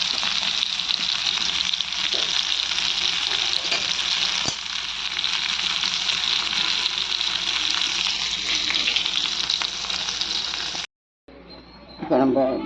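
Eggplant sizzles and fries steadily in hot oil for Ennai Kathirikai, a close, continuous crackle that runs unbroken before a brief silence and a short burst of cooking noise at the end.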